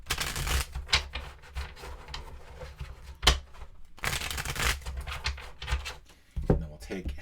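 Board game cards being shuffled several times in a row, crisp riffling and flicking bursts close by at a solo tabletop session, with soft handling noises between passes.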